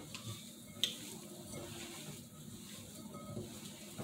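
Ground beef and spaghetti being stirred together for a bake, a faint, steady soft churning and squishing with a single sharp clink near the start.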